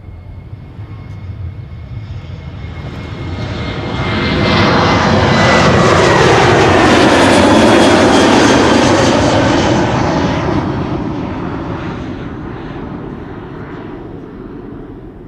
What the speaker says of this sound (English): KLM flight 1231 is coming this way, outbound to Göteborg, 737-700.